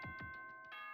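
A school announcement chime from the video game Danganronpa: Trigger Happy Havoc, a few soft bell-like tones ringing in a short descending sequence, faint and alone.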